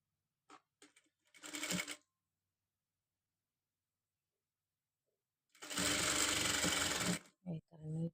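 A sewing machine stitches lace onto a designer blouse, running in two bursts: a short run of about a second near the start, then a longer, steady, loud whirring run of roughly two seconds later on, with silence between.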